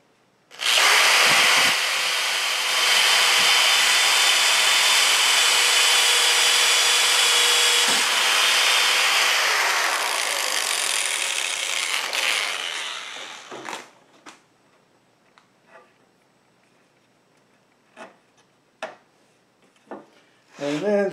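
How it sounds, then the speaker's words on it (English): A power drill bores pilot holes into a wooden target frame, one long loud sustained whine lasting about twelve seconds, then stops, followed by scattered quieter knocks and handling clicks. "So we're pre-drilling our holes."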